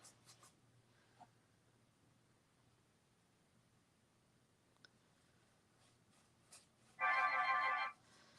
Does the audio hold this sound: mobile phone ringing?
yes